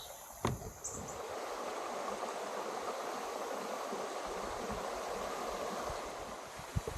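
Creek water flows steadily along a park trail near a bridge, a constant broadband rush heard close and alone for several seconds, with a couple of faint knocks.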